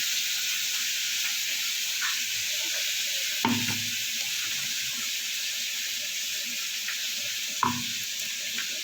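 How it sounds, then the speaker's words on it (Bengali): Yardlong beans sizzle steadily in a frying pan, a close continuous hiss broken by two sharp clanks of a utensil against the pan, with no one speaking. "বরবটির দিকে ভাজা হতে থাক"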